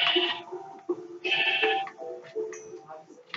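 Minecraft sheep bleat in repeated wavering baas, two or three loud calls close by, the last one fading, with no talk over them.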